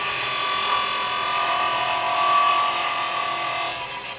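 Steady, continuous whirring hiss of a wood lathe spinning while a carbide chisel shaves a wooden toy car blank down to size, with a thin tonal whine and a slight swell midway, no talk.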